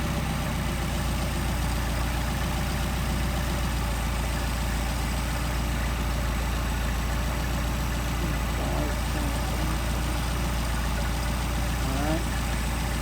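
A Mercedes 190SL with Solex carburetors idles at about 750 RPM, giving a steady, unbroken engine drone that holds even throughout with no talking.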